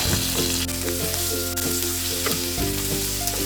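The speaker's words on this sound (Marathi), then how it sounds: "थोडे साईडला करून घ्यायचे म्हणजे ते चांगले फ्राय होतील दोन ते तीन मिनटं झाली आहेत परतून घेऊया" Prawns and small mandeli fish fry steadily in a pan for prawn cashew masala, giving a loud continuous sizzle broken by a few soft scraping stirs.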